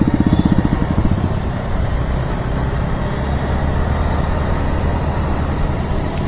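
A line of motorcycles crawls through heavy traffic on a road out of Siliguri toward Tindharay, with a continuous, close engine rumble and drone that holds steady throughout.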